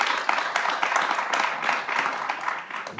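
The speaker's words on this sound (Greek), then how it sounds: "εξαιρετικό ένα χειροκρότημα για τον Δημήτρη Μακαλιά" Steady applause from a studio audience for actor Dimitris Makalias on a Greek television talk show, many hands clapping at moderate loudness and slowly fading, with no speech over it.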